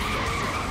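A motorcycle burnout in Saints Row 3, a steady loud tire squeal with engine noise, close and continuous for a brief moment.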